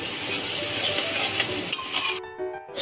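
Lentil dumplings (daler bora) in a Bengali curry being stirred in a pan, a steady scraping and sizzling close up, with a few clinks of the utensil against the pan before it briefly quiets.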